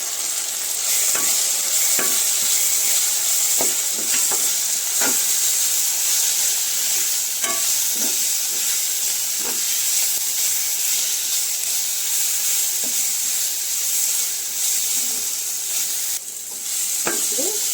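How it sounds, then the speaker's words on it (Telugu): Tomatoes with chili, pepper, coriander and garam masala powders frying and being stirred in a pan for cauliflower curry, a steady close sizzle with repeated clicks of a spoon against the pan throughout and no talking. "ఈ టమాటా ఇవన్నీ దోరగా వేగాయి."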